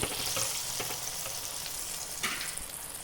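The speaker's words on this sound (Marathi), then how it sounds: "बंद गॅसमध्येच हे आपल्या मिरच्या परतायला टाकू." Green chillies dropped into hot oil with asafoetida, heat switched off, for a paneer pickle, giving a soft steady sizzle with light stirring scrapes, fairly quiet and close.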